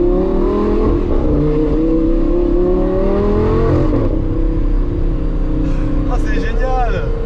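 Ferrari Testarossa flat-twelve engine with an emptied-out exhaust line, idling and blipping in a steady loud drone with rising and falling revs, close by, while people talk over it.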